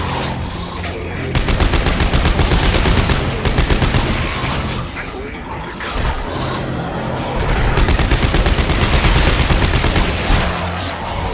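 Weapon fire from the video game Dead Space 3 comes in loud, rapid bursts of automatic shots, broken by short lulls and then resuming just as densely.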